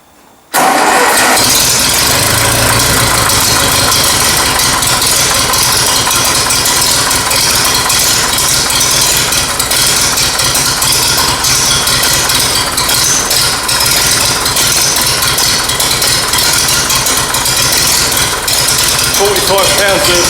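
A Ferguson TEA20 tractor engine, freshly restored but needing a tune-up, turns over and catches within the first second, then runs loud and close at a steady, slightly rattly idle for the rest of the time.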